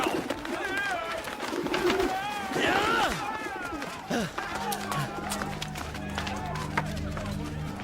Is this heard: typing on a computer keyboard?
no